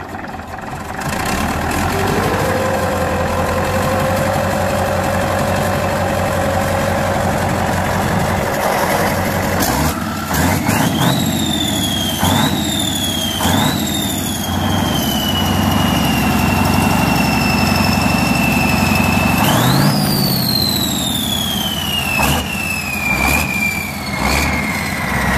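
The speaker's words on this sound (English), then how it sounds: "V8 diesel engine, starts at a heavy machinery site after maintenance." An old V8 diesel truck and tractor engine starts up at a heavy machinery site after maintenance, cranking briefly and then settling into a loud, close, steady idle, with sharp high tones rising and falling over the rumble later on.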